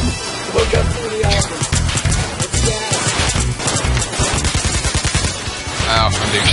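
Dense, continuous gunfire from the Payday 2 video game strikes the player, a loud barrage of rapid shots with game noise and chatter layered throughout.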